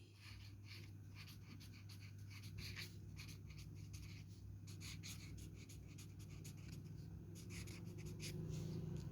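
A pen scratches steadily across paper while an answer is written out, a string of quick, soft strokes over a constant low hum.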